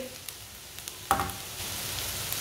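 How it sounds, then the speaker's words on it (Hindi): Chopped green chillies frying with lightly browned onions give a steady close sizzle, with one brief louder spatter as they hit the pan and no talk. "हल्के से ब्राउन हो चुके हैं, ज़्यादा पके नहीं हैं। कटी हुई सब्ज़ मिर्च डालेंगे,"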